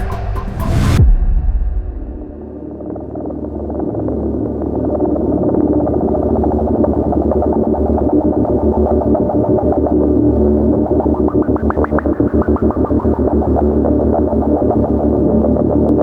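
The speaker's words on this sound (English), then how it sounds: "we're diving into the history and the sound of the Gristalizer" A Gristleizer industrial music effect pedal driving a dense, distorted, droning texture with a sharp burst at the start, then a sustained rumbling, pulsing wash that swells with modulated sweeps, loud and continuous without any voices.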